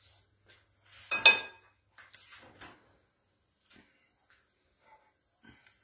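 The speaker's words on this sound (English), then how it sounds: "Okay, this is going into the oven." A banana bread loaf pan is set into an oven in a home kitchen: a brief clinking clatter of metal and rack, followed by softer scattered knocks and a door bump, then near silence.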